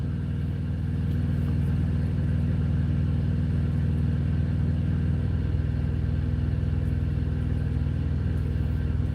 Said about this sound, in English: Big old crane going by in the middle of the night